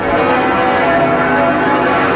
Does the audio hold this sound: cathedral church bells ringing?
yes